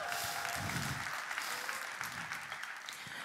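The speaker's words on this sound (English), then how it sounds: "I heard someone clapping." An audience at a data-infrastructure tech keynote claps, producing a brief burst of steady applause from a scattered crowd that tapers off within a few seconds.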